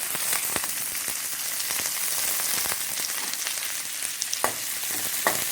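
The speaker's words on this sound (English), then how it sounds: "I'm adding in kai lan leaves" Hong Kong kai lan leaves stir-fried in a pan for village-style egg fried rice, a steady loud sizzle with occasional sharp clicks of the spatula throughout.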